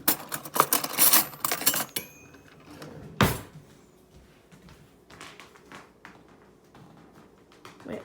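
Cutlery drawer being rummaged for a fork: a loud jangle of metal utensils clattering at first, then a sharp knock and a few lighter clinks and taps trailing off.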